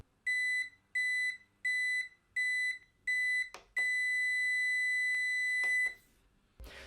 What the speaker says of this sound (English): an alert function that's essentially a timer which results in a rather obnoxious